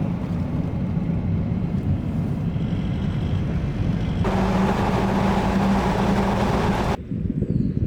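A car drives steadily with a low engine and road rumble, a brighter hum entering midway, then cuts off as it pulls in at the Upper Derwent Visitor Centre in the Peak District.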